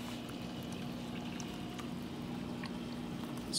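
Water streams from a jet into a stream table during a delta-formation demonstration, a steady continuous pouring and trickling wash held at an even level throughout, fairly faint, with no talk.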